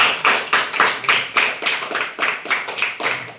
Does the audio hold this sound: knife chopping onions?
no